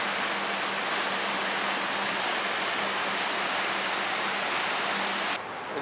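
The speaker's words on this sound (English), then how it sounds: "And here's the Allegheny River. Flows, it splits the town in half." The Allegheny River flows through town with a constant, dense roar of moving water that holds steady and then drops away abruptly near the end.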